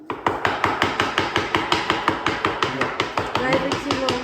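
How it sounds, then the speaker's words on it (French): Rapid, steady tapping of a small wooden mallet on a plaster cornice mould to vibrate the wet plaster, about five sharp knocks per second, close and loud, with faint talk beneath. "Ça, c'est les vibrations avec un petit marteau ou avec un un petit maillet en bois."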